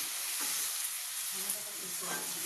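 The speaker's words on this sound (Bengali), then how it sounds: "আলু বেগুন দিয়ে কালো জিরা কাঁচা লঙ্কা ফোড়ন দিয়ে তরকারি। ভাজা হবে।" Potato and eggplant curry fries in oil tempered with nigella seeds and green chilli, giving a steady close sizzle with soft stirring scrapes.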